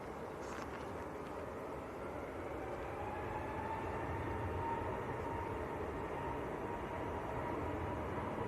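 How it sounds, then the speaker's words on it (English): A Eurowings airplane taxiing out for departure at Manchester Airport, a faint distant low engine rumble and whine holding steady throughout. "Eurowings taxiing out for departure as well"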